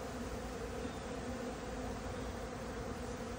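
Bees inside a hive during a mite treatment, a dense steady buzzing drone heard close and continuous throughout.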